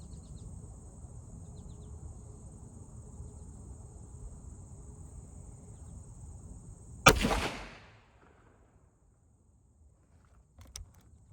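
One loud, sharp rifle shot fires an open-tip .224 swaged bullet outdoors. It cracks over a steady background of chirping crickets, rings out with a short decaying echo, and a faint thump follows a few seconds later.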